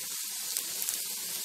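Onion frying in a pan until golden, giving a steady, close hiss of sizzling oil for a brief moment with no talk.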